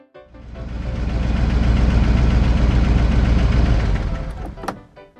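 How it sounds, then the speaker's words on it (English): A car engine rumbles up close, swelling to a steady running drone before cutting off, followed by a sharp click like a car door. "That's when the cubs heard the sound of a familiar car door."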